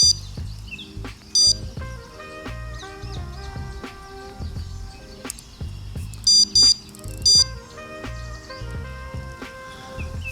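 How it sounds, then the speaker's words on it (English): Electronic bite alarm on a fishing rod by the River Thames, sounding several short, sharp, loud beeps at irregular intervals over a quiet riverside background with birdsong. "Another beep on the big boy rod as he says that, and again."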